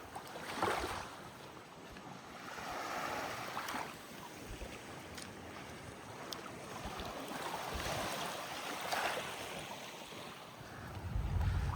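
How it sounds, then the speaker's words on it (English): Waves washing ashore at a private beach near the airport in Montego Bay, Jamaica, a steady broadband wash with gusts of wind buffeting the microphone and a few louder surges, no voices. "So this is a private beach"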